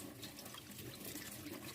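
Tap water runs steadily over raw liver as it is rinsed in a kitchen sink, a continuous close rushing splash with no pauses and no voices.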